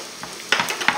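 Duck strips frying in honey in a pan sizzle steadily while a utensil stirs them, with a few sharper scraping bursts near the end of the short close-up.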